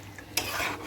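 Cashew paste being stirred into chicken curry in a pan: a short scrape of a spoon against the pan with soft sizzling underneath, close and fairly quiet, no talking.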